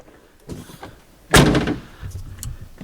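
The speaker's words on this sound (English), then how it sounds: "Gotta close the door first." A Ferrari's car door swings shut with a solid, close thunk, followed by faint shuffling and movement inside the vehicle.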